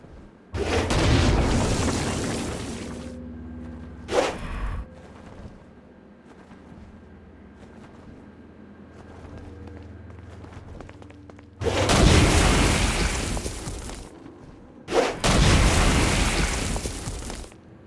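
Heavy Stone Blast explosions from the video game Saints Row: Gat Out of Hell, fired at flying demons. Deep, loud booming bursts hit in several long waves with a short sharp blast between, with quieter game ambience in the gaps.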